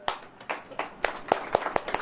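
Congregation at a church service clapping hands, a quick run of sharp, fairly close claps with slightly uneven rhythm, no voices.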